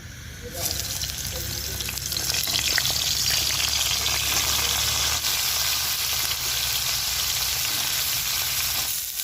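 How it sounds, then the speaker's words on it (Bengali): Cauliflower and potatoes sizzle and fry in hot oil for a fish curry, a steady loud crackling hiss that starts abruptly and continues throughout with faint stirring scrapes. "ফুলকপি আলু একসঙ্গেই কষিয়ে নেব"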